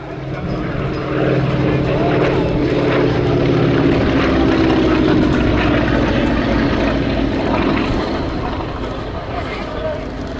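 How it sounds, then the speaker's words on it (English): A propeller aircraft engine drones steadily and loudly throughout a flying display at the Little Gransden Airshow, a constant throbbing roar with a voice faintly mixed in beneath it. "If an airplane looks good, sounds good, it's going to fly well."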